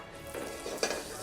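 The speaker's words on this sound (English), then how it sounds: "Got the butter sizzling away." Butter sizzles in a frying pan for a dish in the style of an Edwardian kitchen, a steady close crackle with a brief clatter of stirring near the end; no one speaks.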